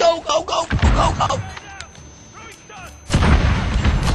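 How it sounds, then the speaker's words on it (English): Cruise missile strike in the Modern Warfare beta video game: loud explosive booms and impacts, the last blast landing near the end and filling the sound, with game effects and chatter-like noise between. "I've got a cruise missile, get that going!"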